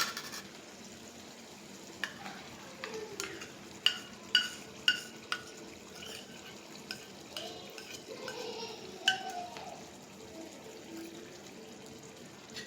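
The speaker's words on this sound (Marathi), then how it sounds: "इकडे आपलं दही आणि बेसन पीठ घालून झाले. तर मिक्स करून घ्या." A curd and gram flour mixture is stirred into a pumpkin curry in a pot: faint, steady stirring with a run of light metallic spoon taps against the pot, quiet and with no voices.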